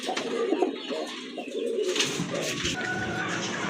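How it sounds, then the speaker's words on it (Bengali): Fancy domestic pigeons in a sale collection coo with soft, low rolling calls, repeated several times at close range against faint background noise. "আরেক জোড়া কবুতর"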